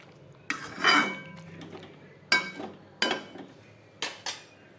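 A metal spoon scraping and knocking in a pan while mutton kosha is stirred with spices, several separate clanks and scrapes spaced a second or so apart over a quiet background.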